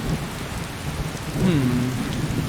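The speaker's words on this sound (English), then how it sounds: "I do wish this blasted rain would pass." Steady rain pours down in the video game Skyrim, a continuous wet hiss with low rumbling tones beneath, heard alone and fairly close throughout.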